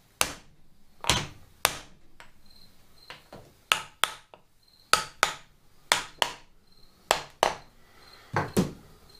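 Roughly a dozen loud, sharp hammer blows strike a Pratt & Whitney lathe part, landing in an uneven rhythm with short pauses between them. Each hit rings briefly, and no one talks.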